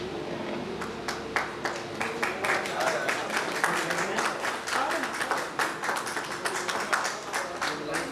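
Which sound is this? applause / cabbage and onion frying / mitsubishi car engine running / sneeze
applause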